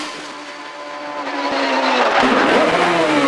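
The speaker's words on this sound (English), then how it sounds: "Carl Davison is next, sharing Simon Dernan's familiar red Gould GR55B" Red Gould GR55B hillclimb race car at Shelsley Walsh, its engine note loud and close, holding steady then rising as it accelerates, with a brief chirp of tire noise midway.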